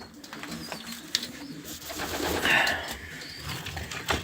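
Pigeons in a breeding loft cooing, soft repeated low calls at close range over a busy rustling background, with a brief chirp partway through and no talk.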